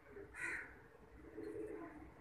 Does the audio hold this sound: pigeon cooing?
yes